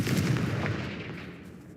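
In the Hogwarts Legacy video game, a Confringo fire spell lets off a muffled, booming blast that sounds close, then rolls off into a fading rumble over under two seconds.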